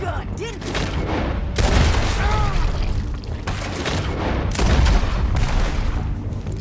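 Loud, booming volleys of gunfire ring out in a Red Dead Redemption 2 shootout, several heavy shots in close succession with brief pauses, layered with game sounds and a voice.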